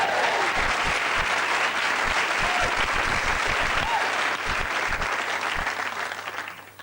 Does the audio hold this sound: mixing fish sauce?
no